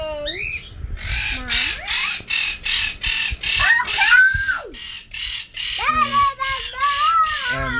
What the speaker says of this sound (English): He's our loud Quaker bird.